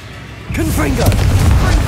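A Confringo fire spell explodes in Hogwarts Legacy with a sudden loud, broad boom that keeps rumbling to the end. A voice-like tone rides over the blast.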